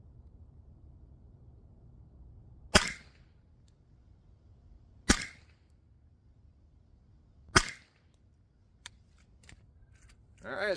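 Three sharp rifle shots ring out a few seconds apart while a CVLIFE Bear Power 4-16×44 FFP scope is zeroed on a target, each one a single loud crack that decays quickly into quiet outdoor background.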